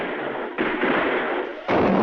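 Cartoon gunfire aimed at a mob, heard as loud, sharp bursts of shots in quick succession with no voices over them.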